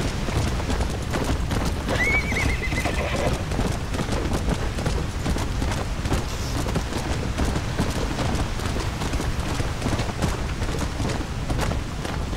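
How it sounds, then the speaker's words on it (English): A flame horse in Red Dead Redemption Undead Nightmare gives a short whinny early on, over continuous hoof clip-clop and a noisy, rain-like game background that runs the whole time. "But I like this flame horse."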